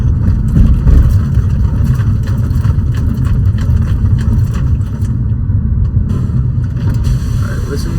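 A BMW 545i car driving, with a steady loud engine rumble and road noise throughout, close and continuous.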